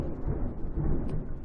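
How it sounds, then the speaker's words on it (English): A thunder sound effect gives a low, steady rumble that lasts about a second and a half and fills the quiet with no other sound. "Thunder."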